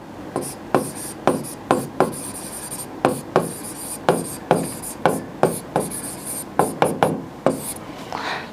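Chalk or pen strokes scratch across a board or paper in a steady, rhythmic series of short, crisp scrapes, about two per second, close and clear with faint background hiss.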